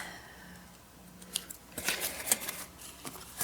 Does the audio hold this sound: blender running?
no